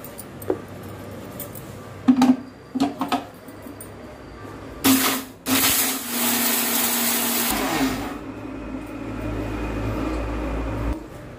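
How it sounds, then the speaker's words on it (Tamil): A mixer grinder grinding garam masala spices roars in a loud burst for a few seconds after some clinks and handling noises, then a lower motor hum continues. "இப்போ இதை மிக்ஸி ஜாருக்கு ஷிஃப்ட் பண்ணிக்கிறேன் அரைக்கிறதுக்கு"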